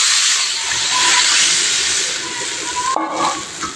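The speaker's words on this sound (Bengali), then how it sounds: "এখন আমি নারিকেলের দুধটা দিয়ে দেবো।" Coconut milk is poured into hot frying masala for a koi fish kalia, giving a loud, steady broadband hiss and sizzle that holds throughout, with a brief clatter near the end.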